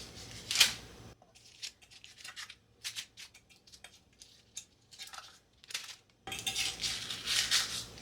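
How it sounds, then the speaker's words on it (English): Baked pumpkin muffins are shifted onto a baking sheet, giving a series of faint scraping, tapping and rustling contacts with metal pan noises, separated by quiet gaps, and no speech. "I'm going to move them to this baking sheet just so they can cool completely"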